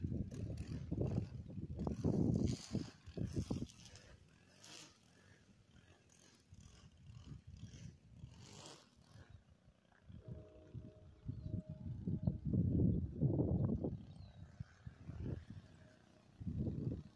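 Outdoor wind buffets a microphone in heavy, low rumbling gusts that swell and fade, strongest in bursts at the start and again near the end, with a calmer stretch between.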